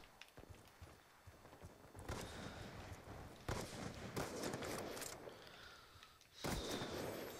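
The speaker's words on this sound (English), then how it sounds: "Oh, rocket launcher." Rocket launcher fire and explosions in Call of Duty Black Ops 2 multiplayer, with loud broadband blasts hitting around two, three and a half, and six and a half seconds over constant battle noise, no talk.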